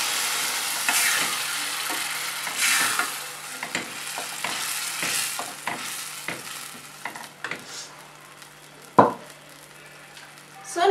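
Steady sizzling of food sautéing in a pan with repeated scraping stirs, close and continuous, ending with a sharp clank.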